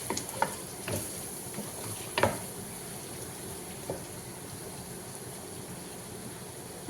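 Potato pieces frying in a pan for a potato biryani give a steady, close sizzle, with a few soft clinks and stirring knocks on top.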